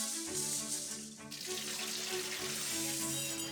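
Azuki red beans are rinsed under a running faucet, a steady close hiss of flowing water with a brief dip midway before the stream resumes, no voices.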